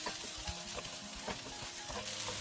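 Duck confit frying in a pan over a low gas flame, a steady loud sizzle with a utensil repeatedly scraping and stirring through it, close up and with no voices.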